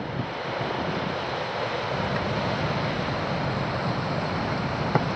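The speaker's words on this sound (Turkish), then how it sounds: "Abi Akdeniz'i ilk defa böyle şahlanmış görüyorum." Rough Mediterranean Sea surf roars continuously, waves crashing in a steady wash with wind buffeting the microphone.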